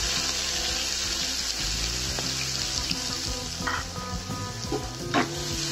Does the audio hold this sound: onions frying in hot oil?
yes